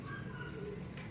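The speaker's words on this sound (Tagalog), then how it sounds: "Kita nyo kung humataw mga ibon natin" Pet pigeons or doves cooing softly in a shaded backyard loft, a low steady murmur of coos layered under faint ambient noise across the short stretch.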